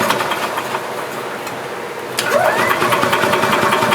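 A gas-powered 2010 EZGO RXV golf cart engine runs with a fuel problem, blowing fuel out the exhaust; a steady, buzzy mechanical drone rises louder partway through, with no talking.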